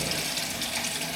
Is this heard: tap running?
yes